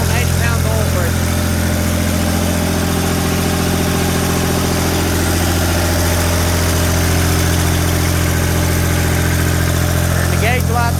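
A turbocharged diesel garden tractor engine idles loud and close with a steady, even, droning hum. Someone speaks over it at times.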